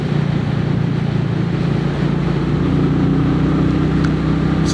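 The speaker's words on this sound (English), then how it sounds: "Great sound to that exhaust." Royal Enfield 350 motorcycle exhaust while riding on bumpy roads: a loud, steady thumping low drone of the single-cylinder engine, continuous and close throughout, with wind rush layered over it.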